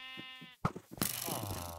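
TNT sheep from the video game Minecraft, in a Bedwars round, give a short bleat followed by clicking and rattling game sounds, quiet and brief.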